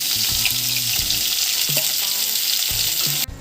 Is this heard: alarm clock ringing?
no